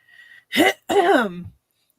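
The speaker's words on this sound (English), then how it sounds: "cough, cough" Two short, harsh coughing bursts close by, the second longer and more voiced, like a throat being cleared.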